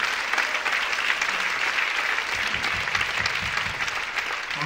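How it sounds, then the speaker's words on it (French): A ceremony audience in a hall applauds an honorary citizenship award presentation in Chelles, with dense, steady, loud clapping that holds for several seconds. "Bon, on applaudit le papa et la maman de David."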